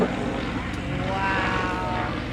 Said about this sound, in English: There goes a 1917 Fokker D-7 with the original engine upside down into a loop.